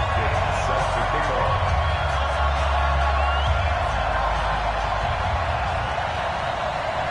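A stadium crowd roars and cheers steadily in an American football video game as the Baltimore Ravens meet the Jacksonville Jaguars. The dense, continuous ambience sits under a commentator's voice.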